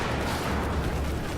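Grenade explosions in a multiplayer video game rumble in a dense, continuous low wash with no distinct individual blasts, fairly faint and with no voices.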